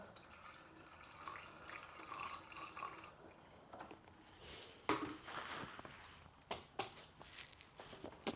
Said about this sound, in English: Let's fill up with some water.